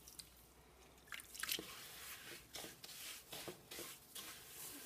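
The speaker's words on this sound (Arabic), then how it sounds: "غادي نضيف الماء" Water poured and worked into Moroccan couscous mixed with vegetables and meat, giving close, soft wet drips and squishing in short repeated bursts across the clip.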